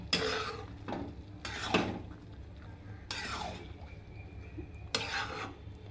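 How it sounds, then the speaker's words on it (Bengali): Egg and chicken khichuri is tipped into a pot and stirred, giving a few sharp scraping, clattering bursts against the metal with a faint sizzle in between. "এবার আমি খিচুড়িগুলো এর মধ্যে দিয়ে দিই।"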